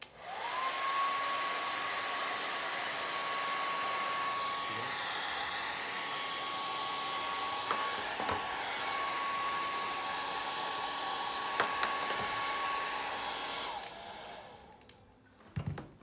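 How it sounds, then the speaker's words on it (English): A blow dryer blows a steady stream of air upward, a continuous loud whirring drone with a high whine holding for about fourteen seconds before it cuts off, followed by faint handling noise. "So right now I have a blow dryer. It's blowing air upwards."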